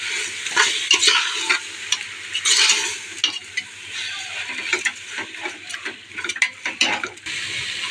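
Ginger garlic paste sautés in a pan for seeraga samba chicken biryani, a loud continuous sizzle broken by repeated scraping stirs of a spatula, with no talking.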